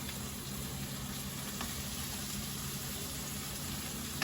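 Minced garlic sizzling in a pot ahead of chorizo for a spinach, chorizo and goat cheese frittata, a steady close hiss and crackle running evenly throughout with no talk.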